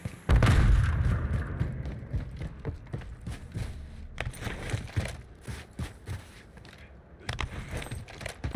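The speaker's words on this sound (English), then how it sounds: "grenade out" A grenade goes off in the video game Call of Duty on Rebirth Island, one loud booming blast near the start, followed by scattered thumps, footsteps and clatter of gameplay.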